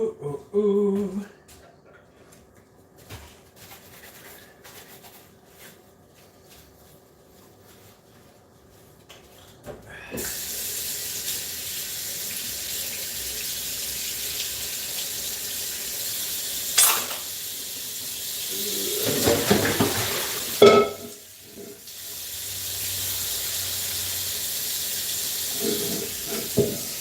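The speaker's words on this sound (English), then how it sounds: "Now we just got to clean the wok" A wok being washed under a running kitchen tap, with a steady broadband rush of water starting partway through and continuing to the end, a louder scrubbing or splashing burst near the close, no talking.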